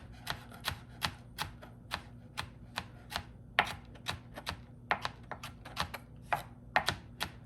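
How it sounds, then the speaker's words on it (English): A kitchen knife rough-chops and minces fresh ingredients on a cutting board, a steady run of close, sharp rhythmic taps about twice per second. "I just go ahead and give it a good rough chop. Mince it up as fine as possible."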